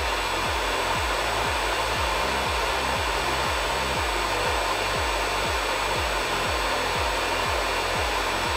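An electric motor runs on an ABB inverter drive with reduced voltage at low load, giving a steady whirring drone with a faint rhythmic pulsing throughout, and no talk.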